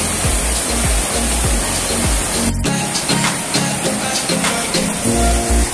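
Parth waterfall rushes in a forest near Surat, a loud constant broadband roar of falling water heard close by, with a few brief knocks and clatters over it.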